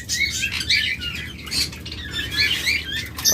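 Caged pet birds for sale, lovebirds, budgerigars, cockatiels and conures, keep up dense, overlapping high chirps and squawks close by, a busy continuous chatter with no talking.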